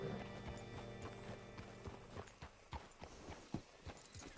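Quiet, regular clip-clop of horse hooves on a hard surface in the video game Red Dead Redemption 2, a steady walking rhythm with faint mechanical clicks in the background.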